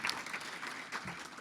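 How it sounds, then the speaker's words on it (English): Audience at a chamber of commerce luncheon gives a quick round of applause for sponsors, a steady wash of clapping from a crowd, moderately distant and fairly quiet throughout. "Let's give them a quick round of applause."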